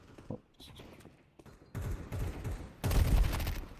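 Submachine gun fire in the Counter-Strike video game: a few scattered shots early, then a denser burst of rapid automatic fire that grows louder toward the end, heard close and clear with no talking over it.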